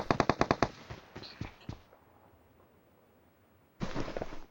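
Gunfire in a first-person shooter match: a rapid automatic burst, a few scattered single shots, a stretch of near quiet, then another sustained loud burst.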